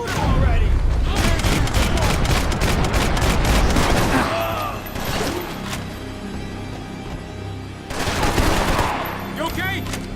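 Heavy gunfire in the video game Max Payne 3, dense bursts of automatic and single shots with booming impacts, loudest in the opening seconds and returning in later volleys, while voices shout over the shooting.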